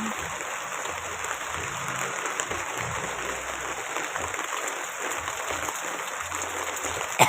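Steady rain pours outside a house, a continuous even wash of water noise with no voices, moderately loud and uniform from start to finish.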